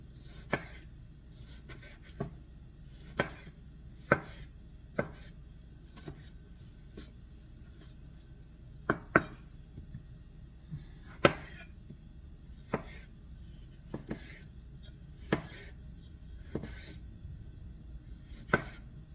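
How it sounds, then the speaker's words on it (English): A knife chops ingredients for a herbed seafood lasagna on a cutting board, with sharp, sparse knocks coming at irregular intervals in a quiet kitchen and no talking. "Well, I am going to continue chopping this"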